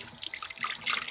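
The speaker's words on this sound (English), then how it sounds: "I will rinse out my blender just using some hot water here." Hot tap water running into a blender jar to rinse out smoothie residue, a short steady splashing stream with bright watery hiss, close and fairly quiet.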